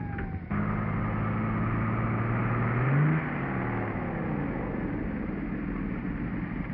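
A 1930s-era car engine revving and accelerating on the road, a continuous loud drone whose pitch climbs and surges partway through, with no talk over it.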